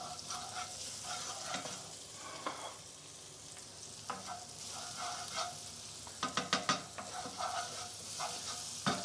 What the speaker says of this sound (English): Add a little pinch of salt onto those. And just very, very gently let them infuse with that little piece of oil.